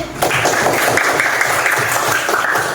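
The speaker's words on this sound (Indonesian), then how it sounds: "Coba berikan tepuk tangan dulu." An audience applauds a student group after its presentation in a classroom session, a steady wash of clapping filling the room without pause for a few seconds.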